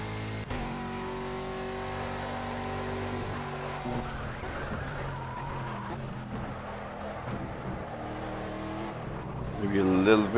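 An Aston Martin V8 Vantage GTE racing a lap of Le Mans in Project CARS, engine note climbing and dropping through gear changes with brief tire squeal, close and continuous, under occasional talk.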